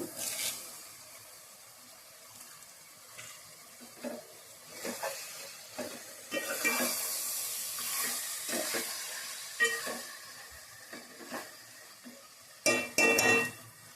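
Curry leaves sizzling in a hot pan for Andhra-style beef curry, a faint steady hiss broken by soft stirring scrapes and light metallic clinks, with no talking.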